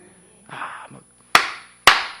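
Congregation clapping during a church sermon: a couple of soft sounds, then two sharp, loud, isolated hand claps in quick succession, close and alone.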